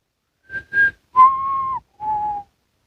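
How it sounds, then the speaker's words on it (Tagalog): A lone whistler blows two short chirps, then two long, slightly falling notes, clear and close with brief pauses between. "marinig ang isang nakakapanindig balahibong sipol"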